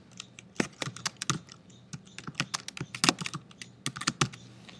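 Quick, uneven keystrokes on a computer keyboard as a title is entered in the Pixlr image editor, clicks close and crisp in short bursts with brief pauses, no voice.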